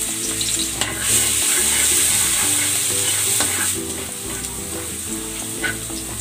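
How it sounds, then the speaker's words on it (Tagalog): Garlic sautéing in hot cooking oil for pancit bihon, a loud, dense, continuous sizzle with crackling and stirring scrapes close up, nobody speaking. "Maglalagay ako ng cooking oil. Igigisa ko na tong bawang."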